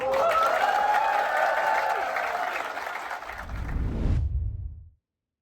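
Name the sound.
applause aboard the Viking Star cruise ship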